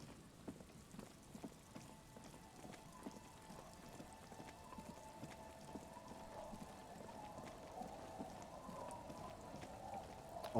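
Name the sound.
rain in the video game Disco Elysium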